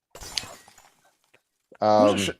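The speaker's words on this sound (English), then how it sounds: "Break the glass." Glass shatters in one sharp, loud burst near the end, following a stretch of quieter talk in the room.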